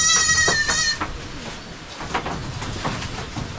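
Goats on a farm bleat loudly at the start, a wavering nasal call close by, followed by quieter rustling and shuffling movement of the herd.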